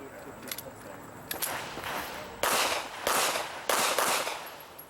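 Pistol shots ring out during an IDPA shooting stage at a barricade, a few distant muffled cracks in short pairs over steady outdoor background noise.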